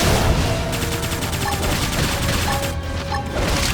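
A flame grenade in Xenoblade Chronicles X bursts in a dense, crackling barrage of rapid blasts and rattling impacts, loud and continuous over busy game music and effects throughout.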